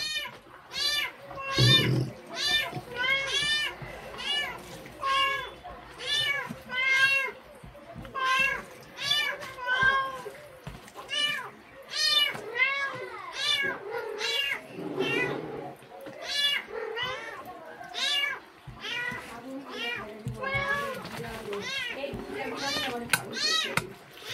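A cat meows over and over in drawn-out, rising and falling calls close by, with brief pauses between them, while people talk in the background.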